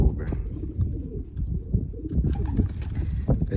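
Pigeons coo softly and repeatedly, with low throaty calls, occasional wing flutters and some background voices.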